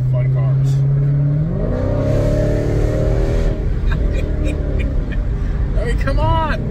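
A Dodge Scat Pack's V8 engine revs up from a steady low idle into a rising, droning pull. The engine stays loud and close, with voices talking over it.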